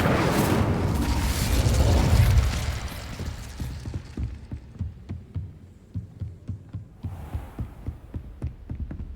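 An Incendio fire spell from Hogwarts Legacy erupts in a loud whooshing, booming burst, then settles into a steady run of low rhythmic thumps and clicks in the game, with no voices.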